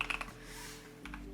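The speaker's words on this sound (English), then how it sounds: "Typing ASMR." Quick clicking keystrokes on a computer keyboard come in a short burst at the start and again near the end, soft and close in a quiet room.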